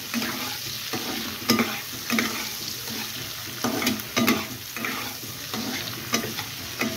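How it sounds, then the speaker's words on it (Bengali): Half an onion, finely chopped, fries in a pan over a raised gas flame, sizzling steadily under rhythmic scraping strokes of stirring about once a second. "আধখানা পেঁয়াজ এইভাবে কুচিয়ে আমি ভেজে নেব"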